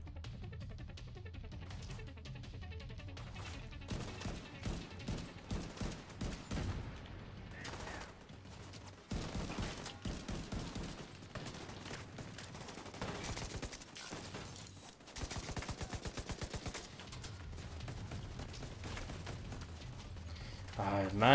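Rapid bursts of gunfire while shooting enemies in The Division 2, repeated automatic volleys in clusters throughout, mixed with game ambience and intermittent talk from players.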